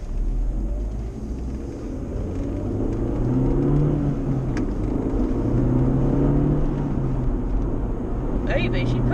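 A standard 1.8T Golf GTI accelerates down a road, heard from inside the car, with a deep engine rumble and rising whirring tones through the gears, steady and fairly loud.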